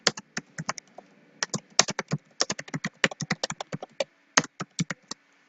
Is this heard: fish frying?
no